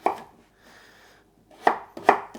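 A knife chops food into smaller pieces on a cutting board during weekly meal prep, with a few sharp, close cuts separated by short pauses and a softer scraping passage between them.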